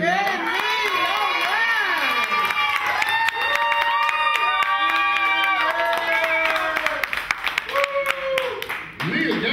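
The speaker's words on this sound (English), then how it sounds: "Big round of applause" At a live basement show, a crowd applauds and cheers with clapping, shouting and whoops. The sound is loud and continuous, with chatter and voices mixed in throughout.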